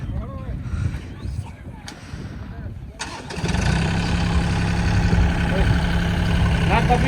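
A tractor engine cranks and catches, then settles into a steady, loud idle with a low continuous drone. Before it starts there is rustling and background voices, and talk continues over the running engine.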